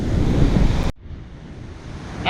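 Loud rushing surf on a rocky coastline during crab fishing, with heavy wind noise that drops out abruptly, then a softer wash of water before another surge.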